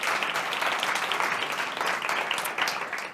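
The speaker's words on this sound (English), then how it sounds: "So a huge round of applause." An audience at a corporate conference claps steadily and warmly throughout, a dense, sustained round of applause with no voices over it.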